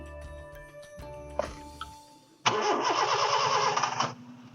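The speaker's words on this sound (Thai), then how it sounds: "ผมลองสตาร์เครื่องให้ดูนะครับ" A Honda Jazz 1.5 i-DSI hatchback gives a few dashboard chimes and clicks, then its starter cranks and the engine catches with a loud burst before dropping into a steady nearby idle.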